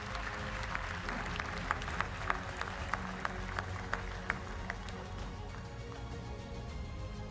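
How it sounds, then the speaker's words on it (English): An audience at a UN Tourism gastronomy forum claps for three new ambassadors, a dense, steady round of applause with distinct individual claps punctuating it, gradually thinning toward the end. "Ladies and gentlemen, a big round of applause for all 3 new ambassadors."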